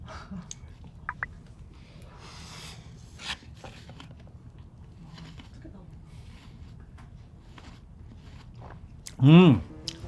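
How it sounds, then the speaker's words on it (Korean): Chocolate cake being eaten together with apple, heard as soft, close chewing and biting through quiet background noise, ending in one brief loud burst. "자, 이제 초코 케이크랑 사과 같이 먹어볼게요"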